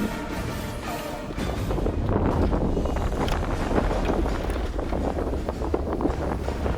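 Strong wind gusts roar steadily across an open outdoor puzzle area at a Survivor challenge, a dense, rumbling blast that swells after the first second and stays loud throughout, with no voices heard.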